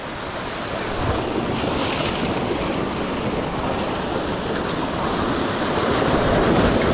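Big ocean waves surge around a fishing boat at sea off Casiguran, Aurora, a steady, loud broadband roar of surf and wind buffeting the microphone, swelling slightly toward the end, with no talking.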